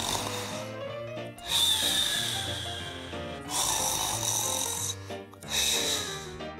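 A man snores loudly up close in three long, rasping in-breaths with short pauses between them, harsh and buzzing, with no voices heard.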